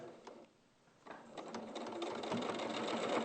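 A domestic sewing machine stitches a seam, starting after a brief pause and settling into a steady, close mechanical whirr that builds slightly in loudness.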